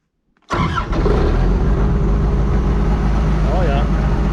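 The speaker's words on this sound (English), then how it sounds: "let's start the machine and" A cold Vermeer BC1000XL wood chipper engine cranks and catches after a brief silence, then runs on at a loud, steady idle in freezing weather, with a voice speaking briefly over it.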